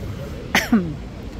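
Two short, sharp coughs close to the mic, a brief pause between them, over low background chatter and street noise at a night street food market in Sham Shui Po, Hong Kong.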